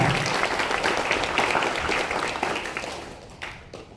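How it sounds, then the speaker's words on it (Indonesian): Audience applause at a school campus information event at SMAN Ambulu, Jember: loud, dense clapping from a large crowd that gradually thins and fades out, with a few scattered claps at the end. "tepuk tangan untuk Anda semua"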